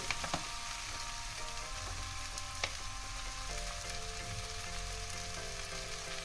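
Pumpkin and taro stolons fry in a pan with a steady, close sizzle, stirred with a few faint scrapes and taps.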